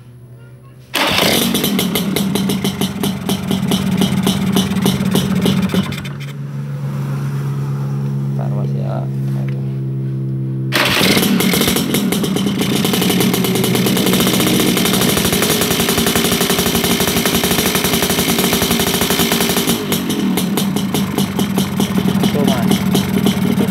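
A Yamaha L2 Super motorcycle engine starts abruptly and settles into a loud, close, rattling two-stroke idle that briefly dips and then picks up again, continuing steadily throughout.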